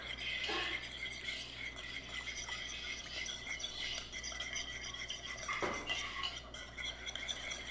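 A lobster roll mixture with yuzu juice is stirred in a bowl with a utensil. The scraping and clinking is soft and continuous, with one sharper knock of metal against the dish partway through, close by and fairly quiet.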